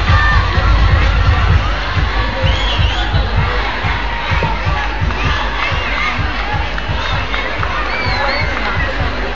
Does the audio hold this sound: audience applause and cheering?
yes